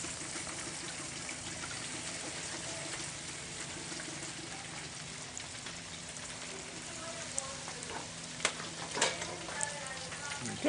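A whole turkey deep frying in a pot of hot oil, giving a steady, dense sizzle and bubbling that runs throughout, with a few sharper pops and crackles near the end.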